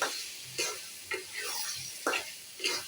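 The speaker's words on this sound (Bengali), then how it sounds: "আমি একটু পরপর নেড়ে নিচ্ছি, 1 মিনিট পরপর নেড়ে নিচ্ছি" Olive pickle is stirred in a pan, soft scraping strokes coming every half second or so over a low sizzle, fairly close and quiet.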